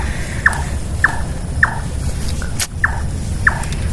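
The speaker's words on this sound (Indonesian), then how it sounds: "Emang kalau udah bunyi burung kayak gitu, suasananya langsung berubah." A bird calls at night in a cemetery, giving six short, sharp repeated chirps at an even pace over a steady background hiss and low rumble, with no speech.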